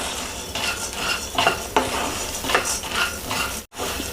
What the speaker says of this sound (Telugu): ఆరు స్పూన్లు వేసుకున్నా ధనియాలు ఇదంతా బాగా మీడియంలో పెట్టుకొని స్టవ్ వేయించుకోవాలండి